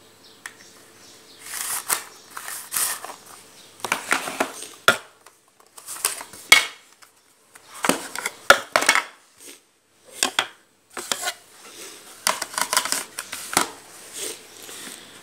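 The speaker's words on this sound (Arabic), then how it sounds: "الآلة الحاسبة بتاعتنا هي أفتحها بالشكل ده" A pocket calculator being taken out, opened and handled up close, with a series of plastic clacks, slides and taps in irregular clusters, without talk.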